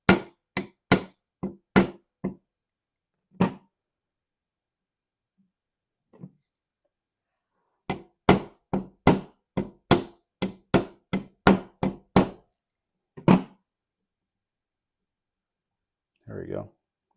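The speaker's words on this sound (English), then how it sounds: "you just have to kind of hammer in that section a little more" Sharp metallic taps as a bearing is hammered into an older Snoo motor, coming in quick clusters with pauses between them, close and crisp, with no talking alongside.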